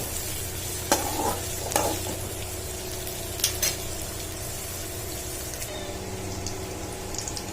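Onions sauté in a pan for tiffin sambar with a steady close sizzle, broken by a few soft scraping stirs.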